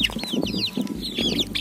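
Several chickens cluck and chatter close by, a busy overlapping mix of short calls against a low background rumble, with no talking.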